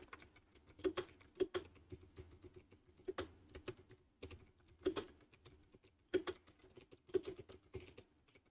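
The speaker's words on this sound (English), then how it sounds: "Might hear my crisp keyboard for a second." Irregular clusters of keyboard clicks, crisp and close, typed in short bursts with brief pauses between them.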